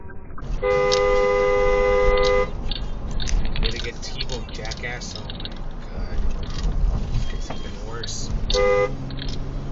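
Car rushing past close by on a Southern California street, with two long blaring horn blasts and road noise throughout, while someone talks excitedly over it.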